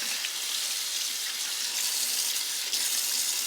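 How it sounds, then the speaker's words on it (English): Tap water runs steadily over a cold press juicer part being rinsed in a sink, a continuous close hiss of flowing and splashing water with no talk. "Let the water run through those little sides area."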